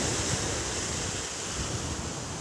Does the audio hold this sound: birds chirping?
no